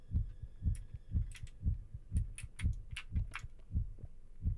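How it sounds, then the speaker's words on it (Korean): Heartbeat sound effect from the horror video game Fear Therapy: a steady, deep, thumping lub-dub pulse about twice a second, loud and close, with faint clicks and game sounds scattered above it. "이거 심장 소리를 줄여야 돼 심장 소리를"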